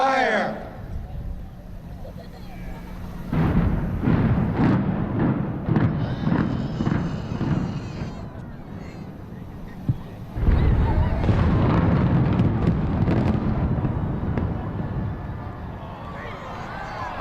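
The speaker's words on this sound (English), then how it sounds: "this is what it looked like as it was coming down, as they counted down, and then that tower went." Demolition blasts from the Capital Plaza Tower building implosion set off deep, broad rumbling that swells and sustains, with a second surge later, while people talk over it.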